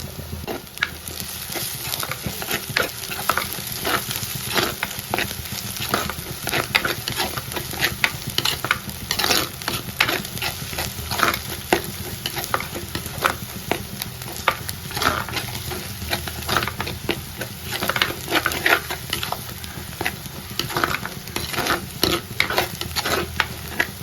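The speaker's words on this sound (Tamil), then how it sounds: "நல்லா வதங்கி வந்துருச்சு." Food sizzles and crackles steadily in a hot pan while being stirred for kadala curry, with frequent scraping strokes throughout and no voices.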